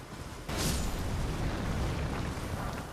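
A deep explosion bursts suddenly in Elden Ring, then a loud rumbling roar lingers for a few seconds.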